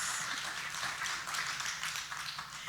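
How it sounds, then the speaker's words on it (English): A live audience at a dance event applauds a contestant, with a dense, steady wash of clapping that is fairly distant and lasts the whole moment. "Give Carmen a round of applause."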